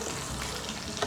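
Peanut sauce fries and is stirred in a hot pan, a loud close sizzle with scraping stir texture, continuous and without talk.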